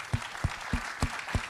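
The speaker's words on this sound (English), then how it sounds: "if we could give him a round of applause, Levante Bentley." A room audience at a financial panel on athletes and wealth applauds an athlete, producing a steady wash of clapping with regular heavier beats, moderately loud and close.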